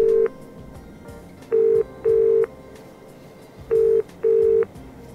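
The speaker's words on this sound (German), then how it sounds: "Gucken wir mal, ob wir jemanden anrufen können." Phone keypad tones in the video game Broken Sword 4, five clear beeps in two groups, then three, each a short steady tone over quiet game ambience.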